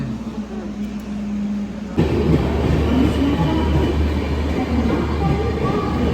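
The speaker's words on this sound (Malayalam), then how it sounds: "ഞങ്ങൾ ട്രെയിനിൽ കയറി" A train rumbles along steadily, a loud continuous low roar with rattling that swells sharply about two seconds in and holds.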